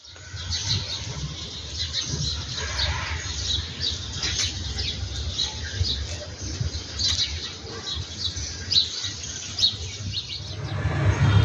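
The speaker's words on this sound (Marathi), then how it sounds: "खूप सुंदर असा पक्ष्यांचा आवाज आहे तो थोडासा तुम्हाला ऐकवते" Morning birdsong around 7:30: birds chirp and tweet continuously against a low background rumble, several calls overlapping at moderate distance with no one speaking.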